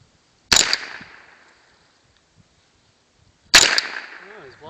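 Two sharp, loud gunshots fired at a target outdoors, spaced about three seconds apart, each with a quick decaying tail and near-silence between.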